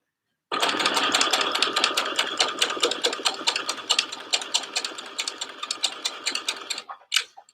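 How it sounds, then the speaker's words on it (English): A sewing machine runs steadily while stitching a dress, a fast even needle rhythm at close range that continues for several seconds, slows slightly toward the end, then stops with a last brief burst. "So as I'm sewing, I am just picking a point on my machine foot to line up with"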